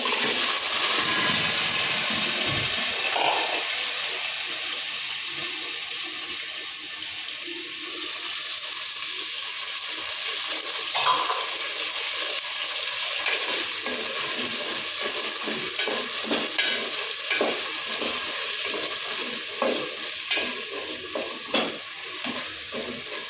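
Carrots and mixed vegetables for sambar rice fry in a pan, a continuous watery sizzle and hiss with scattered scraping and stirring sounds growing more frequent toward the end.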